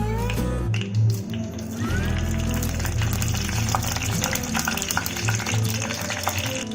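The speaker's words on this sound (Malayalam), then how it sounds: "എണ്ണ ചൂടായി കഴിയുമ്പോൾ നമുക്ക് അതിലേക്ക് ഉലുവ ആഡ് ചെയ്യാം." Fenugreek seeds fry in hot oil in a pan with a steady, close sizzle and crackle, with faint clinks and stirring noises running through it.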